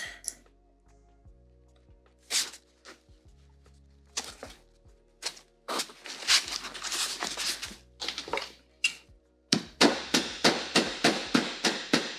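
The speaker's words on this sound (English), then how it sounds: "I am going to hammer it." Sharp hammer blows strike repeatedly, starting sparse and irregular, then settling into a quick steady series of close, loud knocks near the end.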